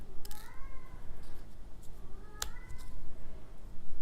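Monty the cat meows from down in a bathroom, with two clear drawn-out meows separated by a pause and a sharp click between them, heard against a low indoor rumble.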